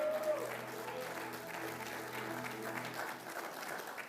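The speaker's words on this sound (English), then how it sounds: "Come on, let's give him a round of applause." A church congregation at a Good Friday service claps in applause, a soft, fairly distant wash of hand claps holding steady throughout, with faint voices underneath.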